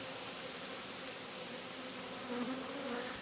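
Agitated honeybees swarm around an opened hive during an apiary inspection, making a steady, dense buzzing drone that rises slightly near the end.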